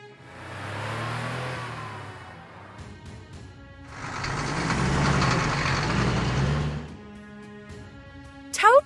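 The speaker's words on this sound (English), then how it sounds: "Ambulance." An ambulance engine runs and revs in two broad swells, the second louder and longer, with a steady idling hum between and a short sharp click at the end.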